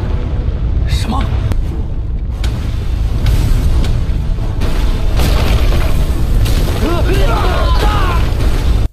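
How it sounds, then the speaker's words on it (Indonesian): In an animated Chinese donghua battle scene, a loud, sustained explosion booms with rumbling bursts and crackling debris, and voices are heard over it. "Boneka sawah bisa meledakkan seluruh penjuru kota Xiong dengan mudahnya"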